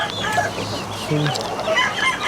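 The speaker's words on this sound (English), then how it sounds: "These are my peacocks." Peacocks raised from chicks, calling loudly and close: harsh, overlapping wails and squawks that come in short bursts, with other farm birds mixed in.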